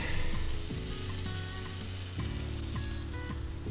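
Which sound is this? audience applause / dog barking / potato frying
potato frying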